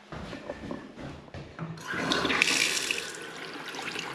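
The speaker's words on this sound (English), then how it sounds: "hot water's coming out." Hot water gushes steadily from an opened tap on a household heating system while a vessel refills, the flow growing louder and fuller partway through, close and without talk.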